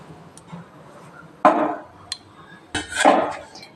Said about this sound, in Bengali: এই যে ঢাকা দিয়ে দিই, আলুটা আমার সেদ্ধ হোক